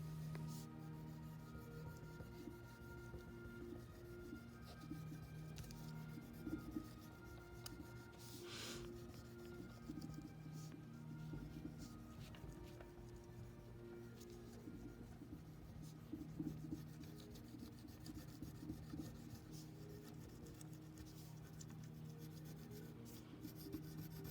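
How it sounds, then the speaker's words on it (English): Black crayon rubbed firmly over folded paper for a symmetry print, a continuous faint scratchy rasping of repeated strokes that runs steadily for over twenty seconds, with no talking. "rub pretty firmly so that it's making that transfer onto the bottom part of your paper"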